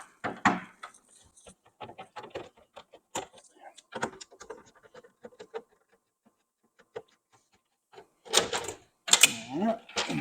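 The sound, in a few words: removing screws and panel from a Manitowoc ice machine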